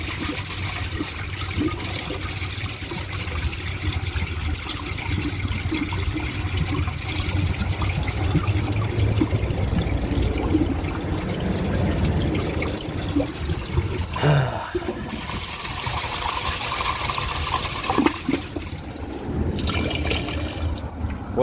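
A toilet flushing down a dish towel, a long steady rush of water swirling through the bowl, then gurgles and trickling refill as the flow breaks up near the end.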